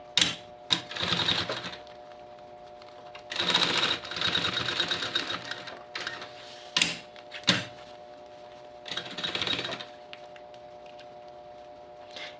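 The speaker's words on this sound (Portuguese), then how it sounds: "E agora eu vou rebater a costura aqui, prendendo esse bolso." A sewing machine topstitches a seam to secure a pocket on a backpack panel, running in several short bursts of a few seconds each, separated by quiet pauses with light handling ticks.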